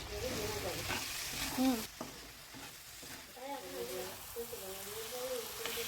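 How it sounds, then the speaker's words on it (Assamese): Steady sizzling and stirring of pumpkin and sesame seeds frying in a hot pan, with a voice talking intermittently over the frying. "তিলখিনি দি উঠি অলপ টাইম ভাজি লৈ"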